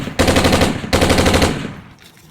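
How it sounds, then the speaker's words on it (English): Two long, rapid bursts of machine-gun fire, loud and close, each a dense stream of sharp shots, with a brief gap between them and a fading tail after the second. "the machine gun, which can fire up to 600 rounds per minute"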